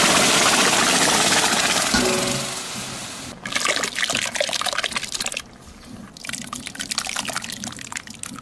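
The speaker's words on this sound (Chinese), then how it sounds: "倒入柿子酱。" Thick homemade tomato sauce made from chopped tomatoes pours into a lightly oiled pot in a farmhouse kitchen, a steady wet gushing and splattering that shifts and continues in separate pours, loud and close, with no talking.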